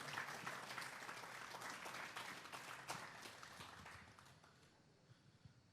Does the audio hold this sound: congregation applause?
yes